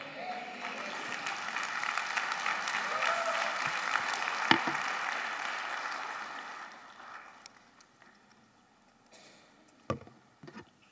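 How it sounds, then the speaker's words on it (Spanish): A church congregation applauds, moderate clapping that holds for several seconds and then fades away, leaving a quiet room with a few scattered claps and knocks. "Tienen que mantener el aplauso por 30 segundos."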